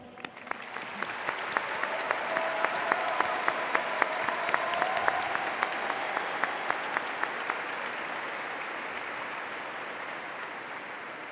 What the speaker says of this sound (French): l'on vous demande d'offrir une main d'applaudissement pour célébrer la